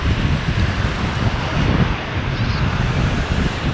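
Ocean waves wash onto a shore in a loud, unbroken rush, mixed with heavy wind buffeting the microphone, with no talking.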